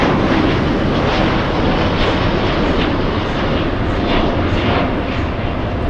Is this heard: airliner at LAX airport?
yes